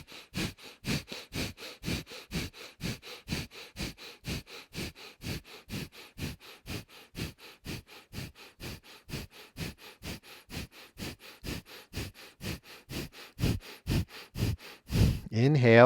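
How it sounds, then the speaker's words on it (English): Rapid, forceful nasal exhalations of breath of fire yoga breathing pump in a steady, even rhythm of roughly two or three per second, close and alone, ending with a sharp inhale. "let's do our breath of fire"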